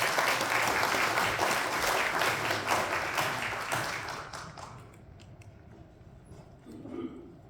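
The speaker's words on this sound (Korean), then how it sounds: "힘찬 박수 부탁드립니다." A press-conference audience marking Guri's mayor's third-anniversary event claps heartily as the mayor is called to the podium; full applause fills the first several seconds, then thins and fades to scattered claps.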